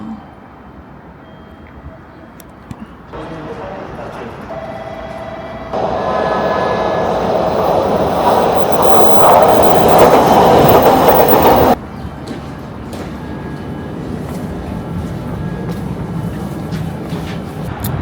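JR train riding toward Space World station in Kitakyushu, Japan: a close, loud rumble with rhythmic clickety-clack, swelling into a roaring stretch midway before dropping back to a steadier rolling hum, with faint talk underneath.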